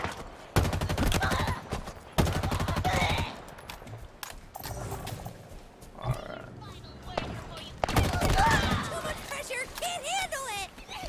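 Gunfire in the shooter game Halo Infinite, with rapid bursts of automatic fire in several loud clusters separated by quieter stretches, mixed with game effects and someone talking over parts of the action.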